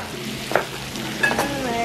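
Rice frying in a pan gives a steady sizzle throughout, with a few brief louder crackles and stirring bursts; no talking is heard.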